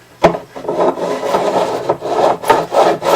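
A metal file rasps over guitar frets to bevel the fret ends, in steady back-and-forth strokes that rise and fall in loud, close rhythm with no talk.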